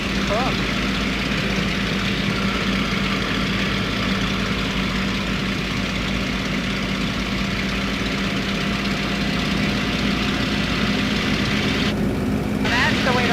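A Spitfire's piston engine drones steadily from inside the cockpit as the aircraft descends toward low altitude, a loud continuous hum with a brief muffled talk burst near the end.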